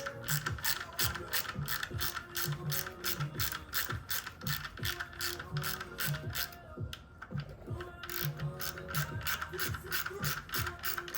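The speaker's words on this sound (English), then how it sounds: "So just go around tightening one at a time slowly, and make sure that the housing is going in evenly." Ratchet wrench tightening housing bolts on a Ducati Panigale V4R during an oil change, a continuous rapid clicking of the pawl close up, with a brief pause partway through and no speech.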